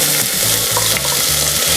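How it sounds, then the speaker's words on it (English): Onions sauté in a hot pan with a loud, continuous sizzle and crackle, close up, while a low rhythmic thrum of stirring or a burner pulses underneath. "Saute the onions until they sizzle."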